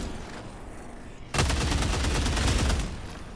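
Sustained rapid weapon fire in Helldivers 2 starts abruptly after a quieter moment and continues as a loud, close, fast stream of shots before tapering slightly.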